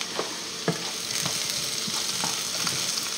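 Rissolé potatoes with parsley sizzle and fry in a pan while a utensil stirs them, scraping strokes repeating every half second or so over a constant loud crackle, close up and with no talk.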